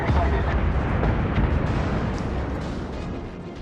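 Heavy guns on the USS Wyoming (BB-32), an American battleship in World of Warships, fire in a loud, booming burst, and the rumbling roar fades slowly over a few seconds.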